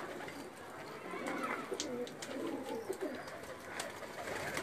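Breeder pigeons coo softly in low, burbling murmurs, a little distant and faint, under a busy background with quiet voices nearby.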